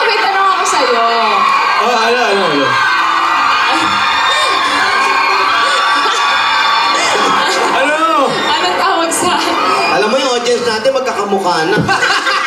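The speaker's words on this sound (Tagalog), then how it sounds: "sumigaw po yung audience eh" A lively studio audience on a Philippine TV variety show shouts, squeals and cheers in waves, loud and continuous throughout, with hosts talking and laughing over the crowd.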